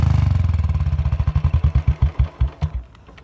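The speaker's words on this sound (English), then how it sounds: "Hope you like the exhaust note, guys" A modified Royal Enfield Thunderbird motorcycle thumps out a deep single-cylinder exhaust note, a fast even idle that slows into loud, widely spaced pops as the engine winds down and falls silent.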